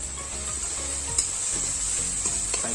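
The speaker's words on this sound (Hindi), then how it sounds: "टमाटर को भी हम अच्छे से भून लेंगे।" Tomatoes fry and sizzle steadily in a pan for Chhattisgarhi fish curry, with a spoon scraping and stirring through them every half second or so; a close, continuous hiss with no talking.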